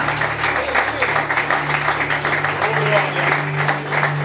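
A church congregation claps steadily through a sermon moment, a dense, continuous wash of applause with voices mixed in and a low sustained tone underneath.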